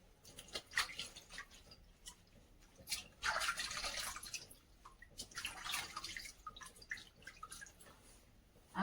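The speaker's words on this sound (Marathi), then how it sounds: "तर बघा मी आता यांना स्वच्छ धुवून घेते" Potatoes being washed clean in water by hand, with close, fairly quiet splashing, sloshing and dripping bursts coming in irregular waves with short pauses between, and no talking.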